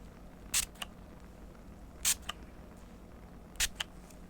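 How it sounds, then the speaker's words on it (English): A handheld spray bottle mists hair before a gentle haircut, three short, crisp bursts spaced about a second and a half apart, each followed by a softer click, close and quiet over a faint background hiss. "Let me give it a little spray again, just to make sure it isn't going to start drying on me while I cut."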